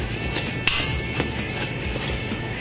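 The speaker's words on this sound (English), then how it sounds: "We're going to put a little crushing motion into it." Whole celery seed and spices crushed for a rib rub, a steady gritty grinding with a sharp clink near the start and softer knocks after, close up and continuous.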